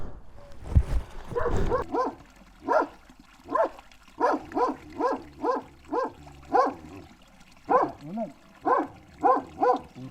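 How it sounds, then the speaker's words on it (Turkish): A dog barks repeatedly in a steady rhythm of short, sharp barks, close by, after a brief splash of water at the start. "Havlayıp durma canım sıkma benim."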